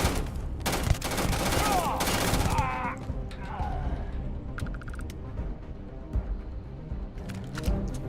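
Gunfire in the Starfield video game, a weapon tap-fired in short bursts of single shots, loud and close, with game sounds and other noise mixed around the shots.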